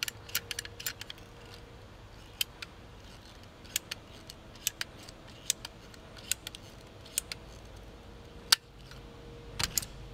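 A PVC pipe cutter snips through PVC pipe in a quiet room, giving a series of sharp, irregular clicks and ratcheting snaps scattered across the clip, each brief and crisp over near silence.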